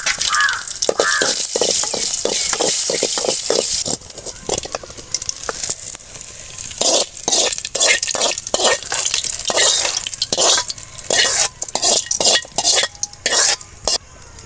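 Mustard seeds, dal and dried red chillies splutter in hot groundnut oil for a greens chutney, a steady loud hiss at first that gives way to rapid close clicks and scrapes as the pan is stirred.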